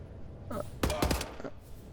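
A handful of sharp gunshots in Wolfenstein crack out in quick succession, close and punchy, over a low quiet background, the loudest cluster landing in the middle of a brief exchange.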